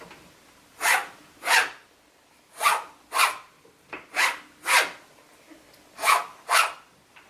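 Straight razor drawn across a fire hose strop, giving about a dozen quick rasping swipes in an uneven back-and-forth rhythm, close and fairly loud with quiet gaps between strokes.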